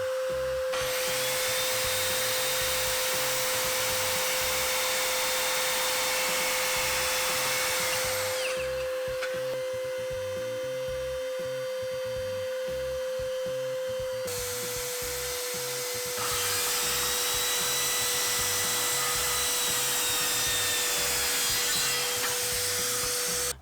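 Budget circular saw cutting through 18 mm MDF, a loud high whining drone with two long cutting passes separated by a brief gap where the motor winds down and restarts.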